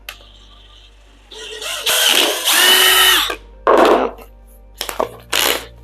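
A power drill whirs in several short bursts, stopping and starting as it bites into material, loud and close with pauses between runs.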